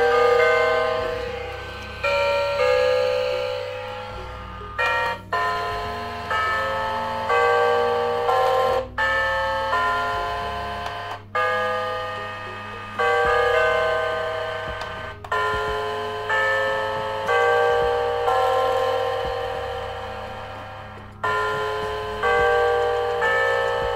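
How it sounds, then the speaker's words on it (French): A XREXS digital clock plays an electronic Westminster Abbey bell chime, a long sequence of bright tones struck one after another, each decaying before the next, loud and close with a steady low hum beneath. "plus sonnerie de cloche, abbaye de Westminster"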